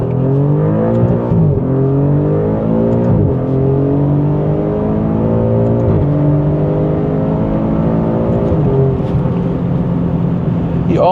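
An Alfa Romeo Giulia Quadrifoglio engine revs hard and climbs through several gears, pitch rising then dropping with each shift, loud and continuous.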